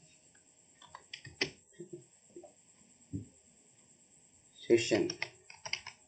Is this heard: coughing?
no